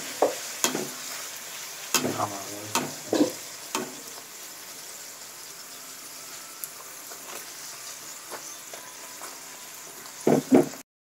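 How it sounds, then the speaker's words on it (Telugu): Puri fries in hot oil with a soft, continuous bubbling sizzle, punctuated by repeated knocks and scrapes of a utensil pressing and turning it. Close and unaccompanied by speech. "వేసిన తర్వాత ఇలా నొక్కాలి. నొక్కిన తర్వాత ఇలా పూరి తిరగేసుకోవాలి."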